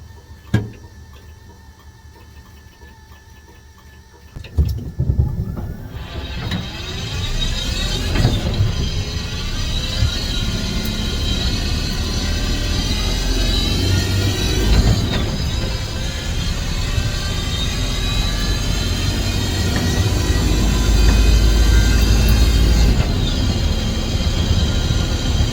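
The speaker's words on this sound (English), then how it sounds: "you can hear all the transmission noises" A steady mechanical whine and hum from a moving 1966 Ford F100 converted to fully electric with a six-speed transmission, rising in pitch as it speeds up, with road rumble underneath and no talking.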